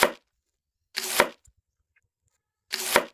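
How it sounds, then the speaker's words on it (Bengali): Three crisp knife chops slicing the ends off pointed gourds (potol) for a Bangladeshi potol vaji, each a short sharp cut with a board knock, spaced about a second apart, close and clear with silence between. "এভাবে আমি যতগুলো পটল নিয়েছি সবগুলো পটলের মাথাগুলো কেটে নিচ্ছি।"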